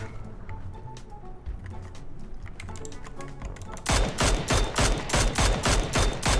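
Gunfire rattles in a video game with an amphibious boat, scattered shots at first, then a louder, rapid burst of automatic fire in a steady rhythm.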